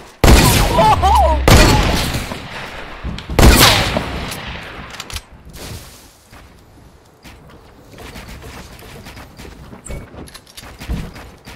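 Shotgun blasts and gunfire in the video game Fortnite, two loud sharp booms close by, then scattered quieter shots and clatter, with players talking over it.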